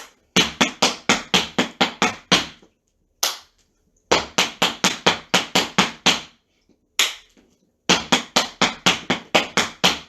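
Tap shoes striking the floor in a beginner home tap class, crisp sharp taps in quick groups of paradiddles each closed by a step, repeated in three runs with short silences between.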